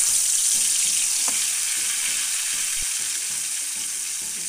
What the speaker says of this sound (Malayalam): അപ്പോൾ ചട്ടിയിൽ വെളിച്ചെണ്ണ ചൂടായി മീൻ ഇട്ട് കൊടുക്കാം.